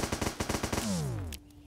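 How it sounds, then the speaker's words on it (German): Rapid automatic gunfire in the video game Starbound, a quick burst of about a dozen evenly spaced shots, followed by a descending whine as the targeted object breaks apart. "wenn ich lang genug gegen irgendwas schieße,"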